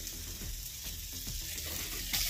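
Vegetables sizzle and fry in a pan on a clay stove as a little water is added, with steady crackling and hiss and a few sharper bursts of spitting throughout.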